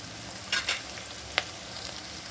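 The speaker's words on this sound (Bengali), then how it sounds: "এখন আমি গ্যাসটা বাড়িয়ে একটু পেঁয়াজটা অল্প করে ভেজে নেব।" Onion frying in a pan over high gas, a soft, quiet sizzle broken by a few sharp utensil scrapes and taps, close up with no voices.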